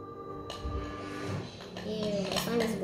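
A spoon stirs homemade slime in a container, giving a few close clinks and scrapes against the sides, with a voice talking faintly in the background.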